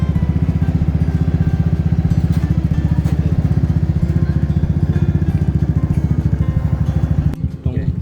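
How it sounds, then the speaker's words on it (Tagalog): A motorcycle engine idles steadily while warming up before a food delivery rider's day in the Philippines, a close, even, loud rumble that runs throughout and cuts off abruptly near the end. "Habang pinapainit ang aking motor"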